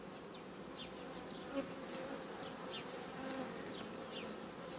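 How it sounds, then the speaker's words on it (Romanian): Honeybees hum at an open hive during queen rearing, a soft continuous buzz with individual bees zipping past now and then, fairly quiet and with no voices. "Iată ce de albin avem aici."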